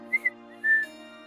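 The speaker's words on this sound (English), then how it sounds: "Elle turns back to the birds and whistles softly." A game character in Hush Hush whistles softly to birds: two quick chirping notes followed by a longer sustained tone over a steady ambient music bed.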